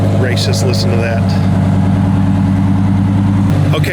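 A Lamborghini Huracán EVO idles in Corsa mode with a deep, steady, throbbing engine rumble, loud and close, while a person talks over it and a brief rev flares near the end.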